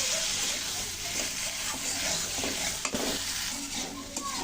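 Spice masala for Kashmiri dhoka curry sizzles in a pan with a little water as a spoon stirs and scrapes, producing a dense close crackle with wet bubbling and occasional clinks, no voices.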